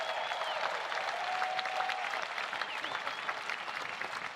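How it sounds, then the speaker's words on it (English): Large crowd at a Pro Football Hall of Fame enshrinement applauds steadily, loud and sustained clapping with faint cheers mixed in throughout. "You can cheer louder than that."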